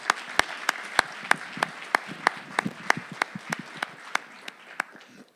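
Audience applause follows a speech at the final of an eloquence tournament, sparse and crisp, with distinct separate claps in a steady loose rhythm that thins out toward the end.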